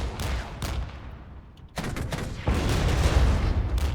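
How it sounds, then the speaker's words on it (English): Enemy artillery and gunfire in the war game Regiments, a loud barrage of bursting shots in clusters, briefly easing before resuming heavier and more continuous. "Enemy artillery is shooting over here, but luckily they are missing us"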